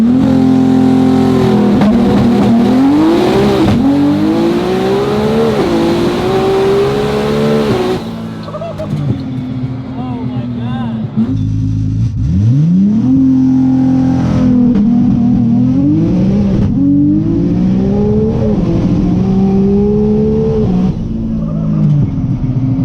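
A 2200 hp Nissan GT-R launches hard on a backroad, its engine roaring loud and close through repeated rising pulls with tire spin, briefly easing off mid-run before surging again.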